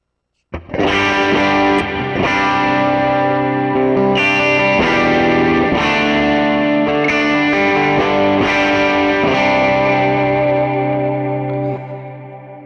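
Clean electric guitar tone through a Quad Cortex worship patch modeled on a Supro Blackmagick and Badcat Cub 30 amp, with chords strummed and left to ring under lush effects and reverb, loud and continuous with no talk.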